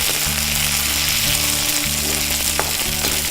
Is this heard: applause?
no